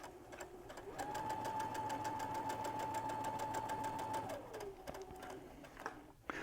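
A sewing machine runs a steady, rapid stitching drone along the seam of a fabric pentagon ball, with a faint high whine through the middle that fades before the motor slows toward the end.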